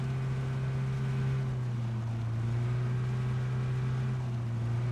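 A boat engine drones steadily in PUBG on the snowy Vikendi map, a constant low motor hum with faint water wash beneath, unbroken and fairly close.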